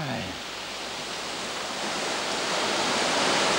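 A mountain waterfall at Stob Ghobhar roars close by, a steady, loud, broadband rush of falling water that builds slightly toward the end.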